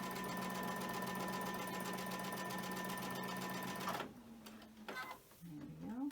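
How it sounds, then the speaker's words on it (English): A sewing machine runs steadily as it chain stitches quilt pieces with a 12-inch needle and pink thread, giving a fast, even mechanical whir for about four seconds before stopping, then a few short bursts of stitching with a voice talking over them. "I'll chain stitch them until those are finished."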